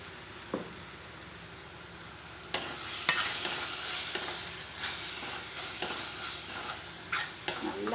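Green chillies and onions sautéing in a pan for crab gravy, a quiet sizzle with scattered scraping stirs and spoon knocks that grow busier partway through.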